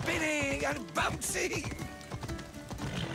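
Horse hooves clip-clopping in a video game, a steady run of close hoofbeats with a brief whinny, playing beneath continuous talk from players.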